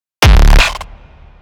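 A single hardcore kick drum hit with light reverb, a loud distorted punchy thump with a pitched low body that cuts off, then a faint short reverb tail fading out.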